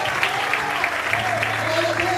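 Church congregation applauding during a Portuguese-language sermon, a steady wash of clapping with a low sustained tone underneath, some voices mixed in.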